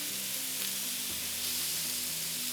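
Pieces of pita and chicken sizzle and fry in a hot pan for chicken souvlaki, a steady close hiss with faint crackling throughout.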